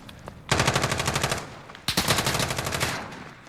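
A SIG SBR rifle fires in Call of Duty: Modern Warfare: two loud, rapid full-auto bursts of about a second and a half each, separated by a short gap.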